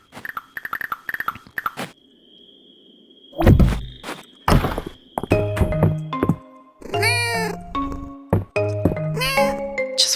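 A cartoonish video game cat gives several meows, mixed in with thumps, clicks and other game sound effects, in a busy sequence of loud, choppy bursts.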